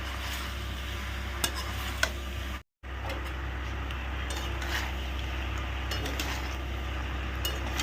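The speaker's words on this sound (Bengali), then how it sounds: "সুন্দর করে মিডিয়াম ফ্লেমে এটা নাড়তে থাকে" Tomato and pasta ingredients are stirred in a pan over medium flame, giving a steady close sizzle with occasional utensil clinks and a brief dropout partway through.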